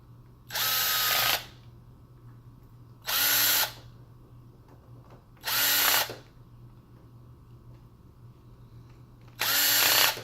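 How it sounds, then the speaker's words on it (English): A power screwdriver drives screws into a Sega Saturn controller shell in four separate bursts, each a loud close whirring of about a second, with quiet pauses between. "I'm going to put my screws in because I have a power screwdriver."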